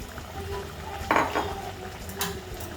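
A spoon scrapes and clinks against a pot of simmering dal with paneer, a few brief metallic knocks and stirring sounds over a low cooking hiss.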